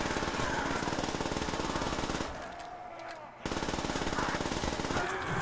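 A PPSh submachine gun in a custom zombies video game fires long rapid bursts with a dense rattling cadence, pausing once for about a second before firing resumes.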